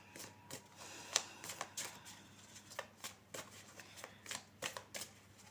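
Tarot cards being shuffled and handled at close range, a series of soft, irregular riffling snaps and flicks, quiet and spaced out across several seconds.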